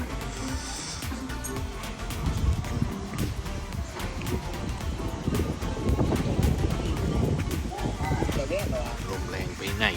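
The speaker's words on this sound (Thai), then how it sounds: "ลมโหดมาก" Strong wind gusts buffet the microphone at a riverside campsite by Khlong Wang Chao in Kamphaeng Phet, a loud, rumbling rush that swells and eases under voices talking.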